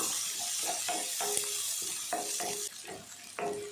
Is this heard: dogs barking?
no